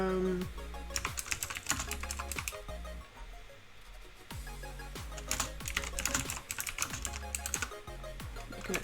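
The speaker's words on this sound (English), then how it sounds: "can actually hear my lovely clicky keyboard." Rapid clicky computer keyboard typing in bursts of sharp, close keystrokes, pausing briefly midway before resuming, with a steady low background hum underneath.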